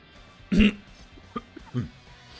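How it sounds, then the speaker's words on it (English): A single sharp cough close to the microphone, followed by a few faint throat sounds and quiet mouth noises. "Sorry for the constant coughing and sneezing."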